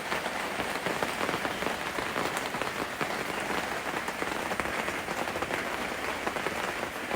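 Monsoon rain falls steadily on surfaces in a rose garden, a soft, even hiss of dense drops with no pauses and no voices.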